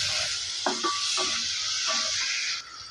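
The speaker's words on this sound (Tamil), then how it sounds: "இப்போ இதில் கொஞ்சமாக நம்ம ஜீரகம் சேர்த்து நம்ம அதை வதக்கி எடுத்துக்கலாம்." Cumin seeds sauté in a pan for a radish chutney, giving a faint steady sizzle beneath a few light scrapes and taps of a spoon against the pan.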